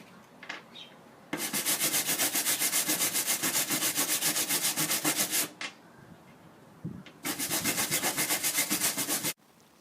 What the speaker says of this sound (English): every nut and bolt and washer has to be hand scrubbed